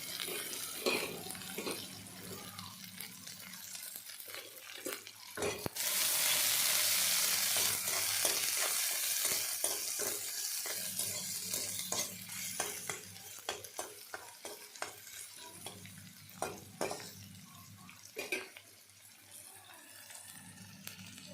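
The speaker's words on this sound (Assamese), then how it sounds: "পিঁয়াজখিনি ভালদৰে ভাজি ল'ম।" Onions fry in a pan for a catfish curry, a steady hiss and sizzle with scraping stirs and clinks throughout, plus a brief louder rush of sizzling partway through.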